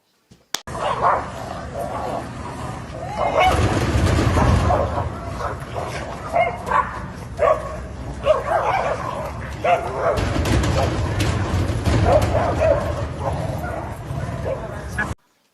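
Several dogs bark, yip and whimper in bursts over about fifteen seconds, close and fairly loud, mixed with people talking and laughing nearby.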